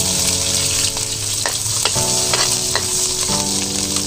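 Garlic and onion frying in a hot pan give a steady, close sizzle with a few scraping stirs of a utensil, and no one speaks.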